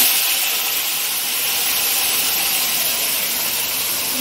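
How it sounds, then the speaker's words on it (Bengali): Spice paste frying in hot oil in a pan for a Bengali steamed katla fish dish, giving a loud, steady, broad sizzle and hiss that holds evenly throughout without speech. "আমি আর গরম করে তেলটা কমিয়ে নিয়ে এটা ভাজলাম, তাহলে একটুখানি কয়েক সেকেন্ড মশলাটা ভেজে নেব"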